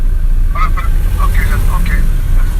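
Car driving with a low, steady road and engine rumble filling the cabin throughout, while people talk over it.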